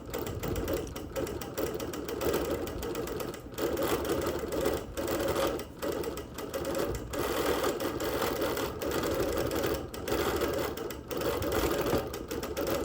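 A sewing machine stitches a wool quilt, running in a fast, even mechanical patter that stays loud and close throughout, with brief pauses and shifts as it backstitches, and no one talking.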